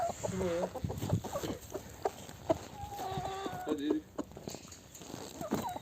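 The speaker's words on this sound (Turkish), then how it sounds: "Horoz." A rooster crows and clucks nearby with other fowl in a henhouse, while a person talks over the birds in short phrases.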